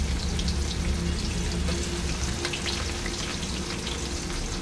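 Chopped onions sizzling in hot oil with five-spice seasoning in a village kitchen, a loud, continuous, close-up crackle and spatter that holds steady throughout with no voices.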